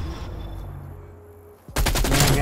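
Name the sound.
gunfire in a video game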